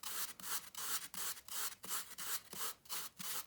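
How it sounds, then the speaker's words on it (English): Fingertip sanding carving foam, steady rhythmic rubbing strokes, about ten close, soft scratchy swipes in even succession with brief pauses between them. "then you can go in and sand it with your finger"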